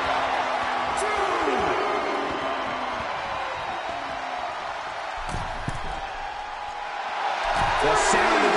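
Broad crowd roar fills a WWE 2K22 wrestling arena in Universe Mode, a steady wash of cheering swelling louder near the end, with commentators talking over it throughout.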